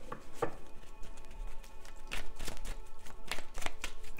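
Angel oracle cards being shuffled by hand, a series of soft papery riffles and taps in an irregular rhythm, close and fairly quiet, with no talking.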